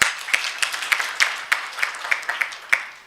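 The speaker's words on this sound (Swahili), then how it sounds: "So Sospita Apigwe makofi." An audience applauds at a talk honouring a guest at a Kimeru Institute gathering; the claps are sharp and fairly evenly spaced, steady and close, with no voices over them.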